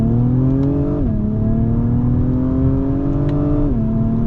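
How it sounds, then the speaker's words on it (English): The engine of a 2024 Acura TLX Type S drones loudly from inside the cabin, its pitch rising steadily under acceleration and dropping abruptly at two upshifts, with no talk over it. "It sounds really good. Listen to this, especially on upshifts."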